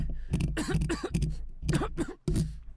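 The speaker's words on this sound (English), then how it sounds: "You're coughing quite a bit." Several harsh, raspy coughs in quick clusters, loud and close, with brief pauses between bursts and a final cough after a short gap.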